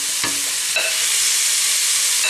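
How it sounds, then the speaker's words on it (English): Beef stewing steak frying in a pan with softened onion, a loud hissing sizzle that stays constant, with a couple of brief stirring knocks near the start. "I'm going to fry this until all the beef stewing steak has browned now"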